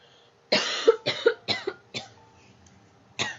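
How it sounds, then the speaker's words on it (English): A run of four or five harsh, close coughs in quick succession, then a pause and one more cough, with no talking. "I'm gonna cough."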